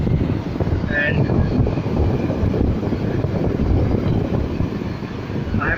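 A Sansui 37-litre room air cooler blows a steady, loud broadband rush of air close to the microphone, with a voice faintly present.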